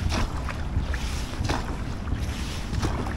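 An ultralight TPU rowboat moves through water with steady splashing and wash, mixed with gusty wind noise buffeting the microphone.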